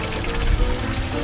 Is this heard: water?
yes